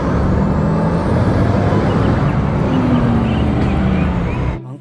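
A tow truck carrying vehicles rumbles past on a road, a loud continuous engine and tyre roar with a faint rising whine, cutting off abruptly at the end.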